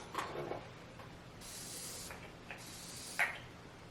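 Two soft hissing bursts of mist from a beauty-product spray bottle, each lasting about half a second, close but faint over a quiet background with a few small clicks.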